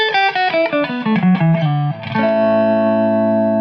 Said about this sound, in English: So this spring reverb effect on the low settings is pretty subtle.